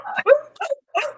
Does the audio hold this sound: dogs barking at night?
yes